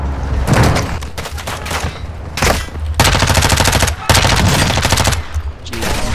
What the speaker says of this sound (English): There's a whole team sniping from there.